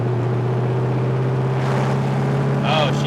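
A 1963 Dodge 330 with a Max Wedge V8 pulling steadily in second gear, a loud continuous low engine drone with a slight rise in pitch toward the end.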